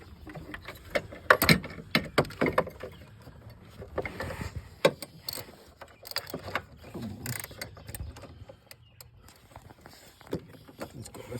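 A wrench with a 24 mm deep socket works a bolt loose, giving irregular metallic clicks, clanks and ratcheting knocks close up, with intermittent talking in between.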